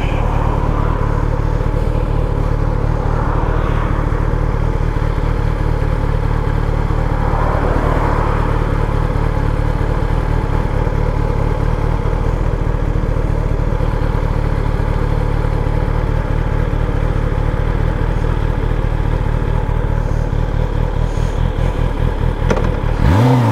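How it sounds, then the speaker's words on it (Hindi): A Kawasaki ZX-10R sportbike is ridden hard, its engine loud and close as it revs up through first gear in long rising pulls, droning on continuously before cutting off abruptly at the end. "चलो अब इस बाइक को राइड कर लेते हैं"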